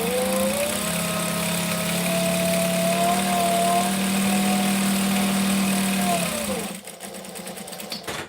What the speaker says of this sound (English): For anyone that hasn't never seen an industrial serger, that's what it looks like.